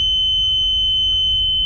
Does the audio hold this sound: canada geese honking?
no